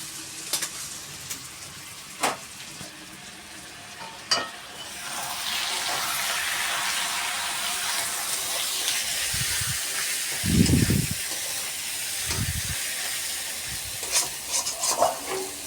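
Turmeric and chilli powder spices frying in a pan for a chicken dish, with a steady close sizzle and hiss and a few louder scraping stirs of a utensil against the pan.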